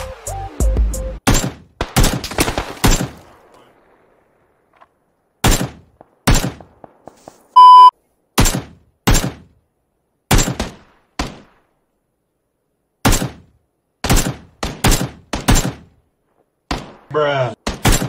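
Bursts of gunfire in the PUBG video game come as sharp, loud cracks in short irregular volleys separated by quiet gaps, with a few players' voices heard between the shots.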